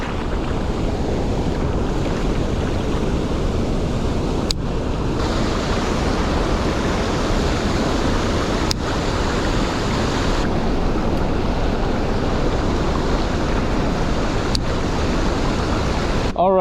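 High, fast-moving creek water rushes in a steady, dense roar throughout, with gusts of wind buffeting the microphone.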